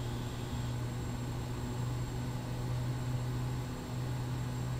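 A Quest Kodiak 100 seaplane step taxiing across water in Microsoft Flight Simulator, with a steady, loud turboprop drone and low hum holding constant throughout, no speech.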